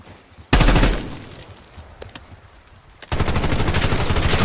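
Rapid machine gun bursts from Call of Duty Black Ops 6 rattle out loud and close, a long burst, then a pause with scattered shots, then another sustained stream of fire to the end.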